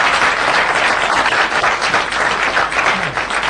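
A theatre audience applauds during a traditional Chinese crosstalk comedy performance, a dense, steady burst of many hands clapping that holds loud and even throughout with no voices above it.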